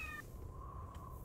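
A cat gun in Left 4 Dead 2 lets out a single drawn-out meow, faint and thin against a low background hum, with a short tonal chirp just before it.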